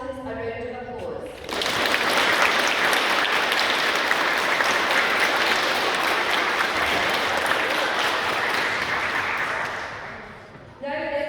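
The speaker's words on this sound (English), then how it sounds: "Could you please give our house captains a round of applause?" An audience in a school hall gives its house captains a long, loud burst of sustained applause that rises quickly and fades near the end, with a voice briefly heard before and after.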